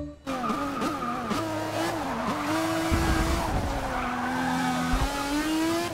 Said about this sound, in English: I actually have to brake hard on that second turn